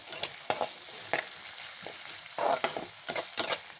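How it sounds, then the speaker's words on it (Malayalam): A spoon stirs onions with chilli powder and turmeric in a frying pan, giving repeated scraping strokes over a continuous low sizzle, close and clear with no talking. "ഇനി ഒരു 1/4 ടീസ്പൂൺ മഞ്ഞൾപ്പൊടിയും കൂടി ചേർത്ത് കൊടുക്കാം. നന്നായിട്ടൊന്ന് ഇളക്കി കൊടുക്കാം."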